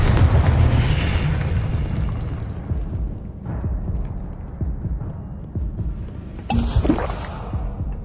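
A Confringo blasting spell from Hogwarts Legacy goes off with a loud, broad explosive boom that rumbles and fades over several seconds, with a second sharp burst near the end.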